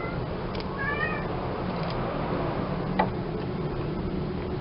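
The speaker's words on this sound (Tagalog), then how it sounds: "Pasensya na kayo sa pusa ko." A cat meows a few times indoors, faint and short, over a steady background hiss.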